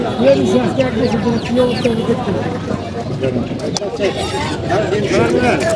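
Native chickens cluck and squawk steadily at a busy poultry market in Tongi, with someone talking over the birds and market chatter throughout.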